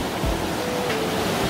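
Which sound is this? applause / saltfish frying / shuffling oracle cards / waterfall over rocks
waterfall over rocks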